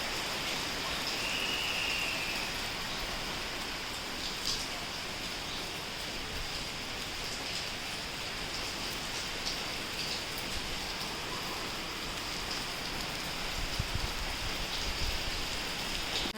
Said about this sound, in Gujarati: અત્યારે ખૂબ જ વધારે વરસાદ આવે છે